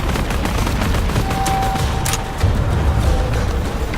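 Gunfire from a gun in the action video game Shadow of the Tomb Raider, a steady stream of rapid shots running through the whole stretch, loud and close with a dense rattling texture.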